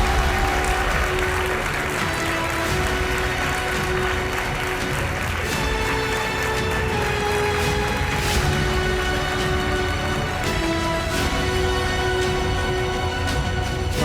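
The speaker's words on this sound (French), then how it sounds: "un max d'applaudissements" Applause at the Energy Music Awards ceremony for a revelation-of-the-year winner: a continuous, loud wash of clapping over a music backing that holds steady the whole way.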